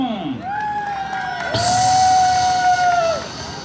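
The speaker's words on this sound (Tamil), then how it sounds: "ராஜவுலா அலி கானின் ஒரே மகன் அம்ஜத் கானுக்கு கைத்தட்டல் பறக்கட்டும்." A crowd at a snake show during the Klang Deepavali Shopping Festival cheers for Amjad Khan. A long rising whoop or whistle leads into a louder burst of cheering that swells and then drops off.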